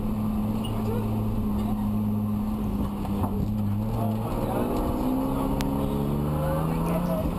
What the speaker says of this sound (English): But I'll just be quiet a little bit and let you listen to the car.